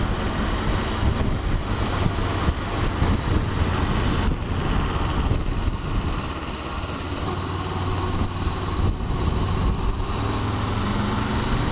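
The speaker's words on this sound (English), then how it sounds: "Quite windy up here at the minute" Steady wind buffeting the microphone on a hilltop beside a water reservoir in the Canaries, a continuous close rumble and rush with no pauses.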